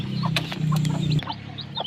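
A hen with her brood of chicks, around ten of them, makes low steady clucks broken by several short high peeps, close by and without talk.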